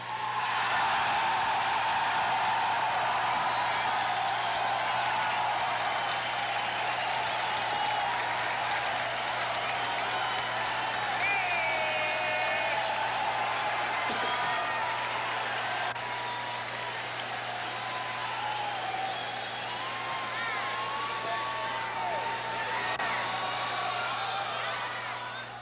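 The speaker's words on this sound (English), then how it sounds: "give your parents and friends big round of applause" A large outdoor crowd applauds steadily at the USMA 1988 graduation ceremony, a broad even clapping heard at a distance over a constant low hum, with a few voices faintly above it.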